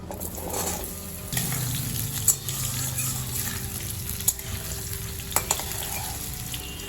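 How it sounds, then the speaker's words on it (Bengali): Cut potatoes dropped into hot oil tempered with bay leaf and whole cumin seeds, giving a steady close sizzle with a few sharp knocks and scrapes of a spoon against the pan. "এবার আমার কেটে রাখা আলুগুলো দিয়ে দেবো।"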